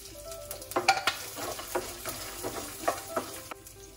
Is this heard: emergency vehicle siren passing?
no